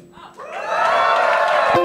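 An audience at a convention music show breaks into cheering and whooping, the crowd noise swelling quickly from near silence and then holding at a loud, steady roar.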